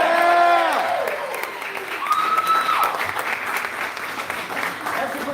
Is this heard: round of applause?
yes